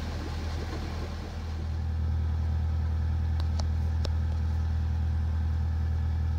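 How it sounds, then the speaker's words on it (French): A sailboat's inboard engine motors steadily at 1200 rpm on a calm sea, a constant low drone that swells slightly after a moment, with a few faint clicks. "On y va gentiment au moteur à 1200 tours."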